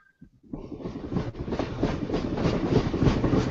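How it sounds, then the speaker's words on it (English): A train rumbles past nearby, its rhythmic clattering wheels building steadily louder and filling the whole clip with no talking. "Yeah, that's a choo-choo train."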